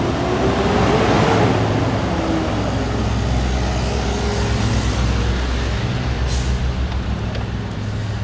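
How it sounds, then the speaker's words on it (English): Trucks pass along an early-morning street in Williamsburg, Brooklyn: a loud, sustained roar of engines and tires, with a brief hiss near the end. "I still hear some trucks."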